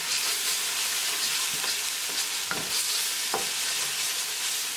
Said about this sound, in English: Cook spices along with tadka for 1 minute.